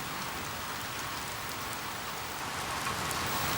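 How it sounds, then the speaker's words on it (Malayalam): Rain falls steadily in a broad, even hiss of drops on surfaces, fairly quiet and unbroken, with no voices. "മഴ തുടങ്ങിയ"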